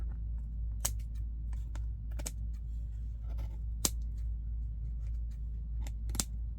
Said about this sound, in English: Let me see if I need to trim any of this on the lace